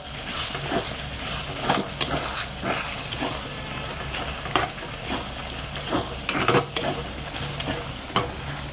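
Chopped coriander and mint being stirred into a pan of paneer mushroom masala, with scraping spoon strokes over a soft, steady sizzle at close range.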